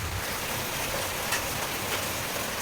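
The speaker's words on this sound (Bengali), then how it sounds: "বৃষ্টি হচ্ছে।" Steady rain falls on a rainy day as a dense, even hiss of drops on surfaces, loud and continuous throughout with no talk.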